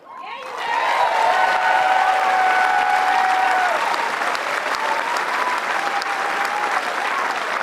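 Sustained applause from a large tennis crowd at Wimbledon, steady and loud throughout, with faint voices mixed into the dense clapping.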